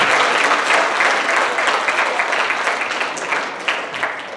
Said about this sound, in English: All right, applause, guys